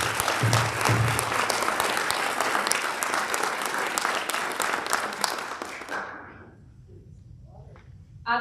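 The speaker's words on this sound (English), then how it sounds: "can we give him one more round of applause" Hearty applause from a crowd honoring a speaker at a leadership summit in Tulsa, Oklahoma, loud and dense for six seconds then quickly dying away into a quiet room with faint murmurs.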